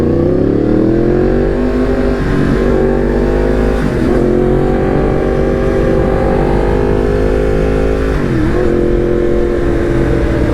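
A Yamaha MT-10 motorcycle engine revs loudly and close up, rising and falling several times with sharp pops and crackles between blips as it backfires.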